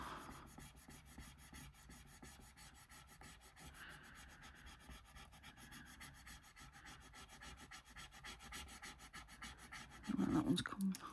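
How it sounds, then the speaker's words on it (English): Rubbing tool in use, faint repeated scraping strokes at close range, growing louder near the end. "A rubbing tool."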